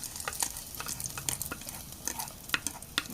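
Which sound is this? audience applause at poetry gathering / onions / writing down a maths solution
onions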